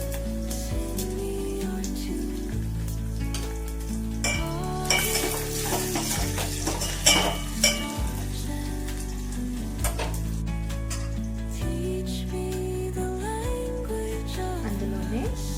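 Crushed garlic cloves dropped into a pan of frying ingredients for a tangy tamarind dal, a steady sizzle under clanking stirring and pan knocks, with a strong tonal hum running throughout.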